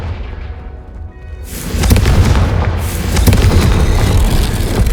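A Confringo fire spell in the Hogwarts Legacy video game goes off as a deep, heavy boom that bursts in after a quieter lead-in and rolls on as a loud, sustained roaring blast.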